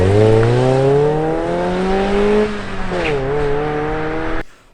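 A Mazda NB Miata with an aftermarket midpipe drones loudly with a deep, rumbling exhaust note, pitch rising as it revs, then dipping and climbing again before fading out.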